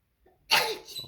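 A person imitates a sneeze with a short, sharp "achoo" burst, a faint intake before it and a breathy tail, close and loud, with no other talk.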